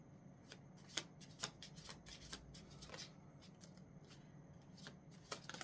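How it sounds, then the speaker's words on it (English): A deck of tarot cards being shuffled by hand, with a series of quiet riffling bursts and soft slaps of the cards at close range, faint and without talk. "So I'm going to shuffle again."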